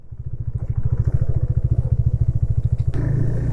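A motorbike engine thumps in a steady, rapid low pulse on a mountain ride from Lansdowne to Rishikesh in Uttarakhand, close and loud throughout, with faint rattling over the top and a brief clunk near the end.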